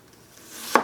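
A single crisp knife chop onto a cutting board while an onion is minced into tiny pieces, sounding sharply near the end after a quiet lead-in.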